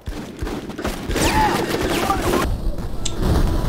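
Heavy gunfire in the military squad combat video game Full Spectrum Warrior, rapid overlapping shots and bursts running throughout, loud and near, with a shouted voice briefly cutting through midway.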